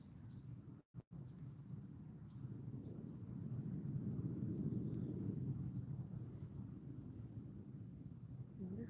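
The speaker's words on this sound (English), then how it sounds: "Probably a Navy airplane going to war in the Pacific for our" A Navy airplane flies far overhead, a broad, low rumbling drone that swells gently and fades, steady and distant with no voices.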